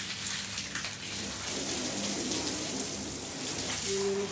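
Water pours steadily and close by while a backyard in Dubai is hosed down and cleaned, a continuous splashing rush with no talk over it.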